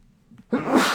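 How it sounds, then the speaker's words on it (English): A single sneeze bursts out after a brief quiet intake, loud and close, with no talking around it. "There's happy sneeze."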